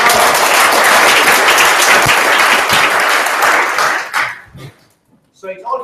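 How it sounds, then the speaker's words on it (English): An audience gives loud sustained applause after a talk at an economics session, a dense burst of clapping that cuts off sharply near the end, followed by a voice speaking. "So perhaps a round of applause to Prof. Mark for that fantastic talk."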